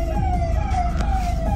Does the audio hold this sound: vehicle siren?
yes